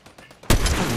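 Sudden loud burst of gunfire from a sniper in the video game Fortnite, following a quieter stretch of muffled game sounds and faint voices, then sustained dense crackling shots and impacts.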